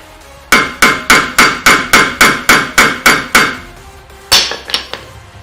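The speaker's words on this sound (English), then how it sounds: "Let's go ahead and give it a little hammer tap to loosen that rust up." Ten quick, evenly spaced metallic hammer taps strike a rusty rotor screw on a car, loud and close, followed by a pause and a few more scattered clinks.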